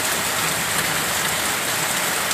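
Heavy rain pours down during a flood, a dense, steady hiss of falling water filling the whole short stretch with no voices.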